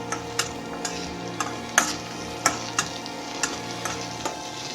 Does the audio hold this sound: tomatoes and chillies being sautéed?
yes